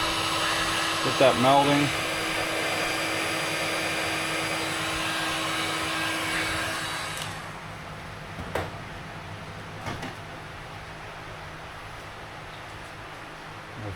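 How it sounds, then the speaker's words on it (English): A heat gun blows steadily on layered swimbait lure material for a 320mm mullet swimbait, a loud continuous broadband whoosh with a steady hum, under brief talk, before it cuts off and leaves a quieter room with a few knocks. "I give it a hit with the heat gun just so it laminates together well."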